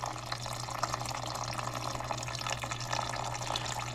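Fuel pours from a nozzle in a continuous trickling, splashing stream during work on a John Deere gas-powered air compressor, with a low steady hum beneath it.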